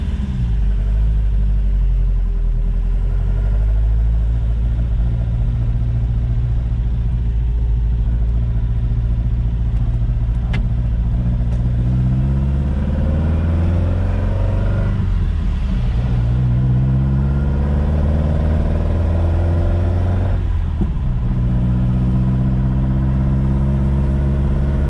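A Toyota 22R engine with stock carburetor jets runs loud and close in a continuous rumble, rising and falling through several revs on its first drive after a full build, with no voices.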